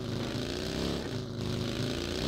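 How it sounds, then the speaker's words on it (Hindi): A motorcycle engine in the battle royale game BGMI drones steadily and loudly for the whole stretch, with layered harmonic engine tones holding at an even level and no talk over it. "मुझे बाइक की आवाज आ रही है।"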